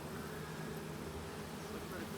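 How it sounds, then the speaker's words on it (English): Bees buzzing at a beehive, a faint continuous drone close by, with people talking quietly over it. "Look at the bees"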